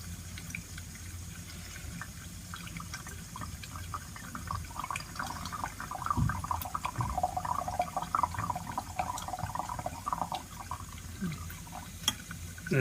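Tap water running into a filtration setup for benzoic acid in a chemistry lab, a steady hissing flow with some dripping, rising slightly partway through; no one speaks.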